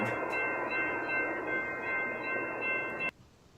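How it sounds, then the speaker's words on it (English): A long freight train rolls past close by, a steady loud rumble of rail cars with screeching tones, then the last car clears and the sound drops off sharply to quiet. "So he flew by, he's gone. Oh, yeah. So Yeah. there's the end of that train."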